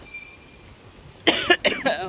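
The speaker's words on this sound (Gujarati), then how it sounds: "મને ઉધરસ થઈ ગઈ." A person coughs several times in quick succession near the microphone after a quiet stretch of faint background hum, during stormy rainy weather in Rapar, Kutch.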